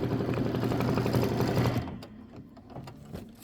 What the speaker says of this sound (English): Now it's doing this fancy stitch.